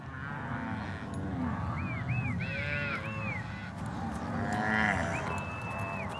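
Cattle low and moo repeatedly in the Amazonian marshes on separation day, when calves are parted from their mothers. Several drawn-out, wavering calls rise over a rumbling herd background at middling distance.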